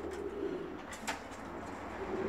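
Soft, low cooing from Bulgarian pigeons in a loft, a continuous quiet murmur with a brief brighter call near the middle, close by with no voices.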